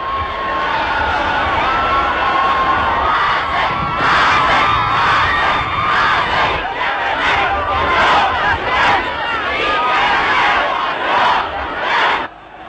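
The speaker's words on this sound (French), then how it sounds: "La foule maintenant n'est qu'un immense délire que rien ne peut endiguer." A huge frenzied crowd at Nasser's funeral, a loud, continuous roar of massed shouting and chanting voices that rises and swells without pause.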